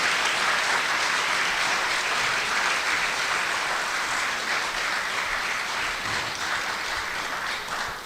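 An audience at a human resources, corporate communications and customer service conference gives Dr. Antoine a round of applause, a dense, steady wash of clapping that holds for about eight seconds and tapers slightly at the end, with no talking.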